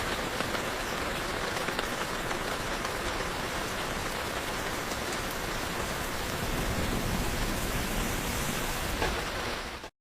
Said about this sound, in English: That rain sound isn't a stock track. The AI generated it to match the visuals perfectly.